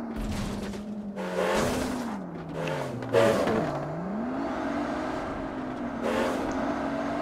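A monster truck engine in PUBG on the Miramar desert map revs and whines, its pitch rising and falling in repeated surges, with a few sharp louder bursts and no talking.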